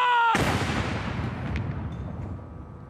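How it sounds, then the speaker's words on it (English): A single heavy artillery round from a 41-gun ceremonial salute at Trooping the Colour, a sudden loud boom that rolls and echoes away over several seconds in open air. "You can hear the 41-gun salute still continuing, a few more rounds to go of that."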